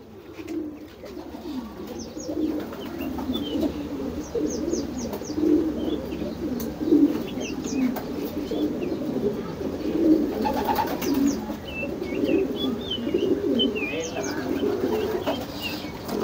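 Homing racing pigeons in a loft in Hosapete keep up a continuous low cooing, many birds close together, with faint chirps scattered above the steady murmur.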